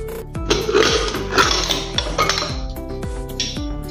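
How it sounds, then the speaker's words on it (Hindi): Steel pressure cooker being opened after cooling from chana masala, with repeated metallic clanks and clinks of the lid and utensils in quick succession, close and fairly loud, with no talk. "अभी हम ढक्कन खोलकर देखेंगे। ठंडा हो गया है कुकर।"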